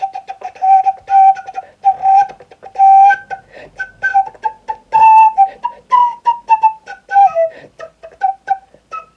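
A blues tin whistle plays a quick, choppy run of short tongued notes, each attack crisp and punchy, close up and loud throughout.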